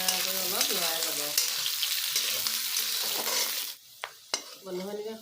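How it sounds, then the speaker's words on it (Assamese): Onion frying in a pan for Assamese-style duck curry, a loud steady sizzle with stirring scrapes that cuts off near the end, leaving a few clanks of utensils and some quiet voice. "এয়া মই পিঁয়াজটো ভাজি ল'লোঁ।"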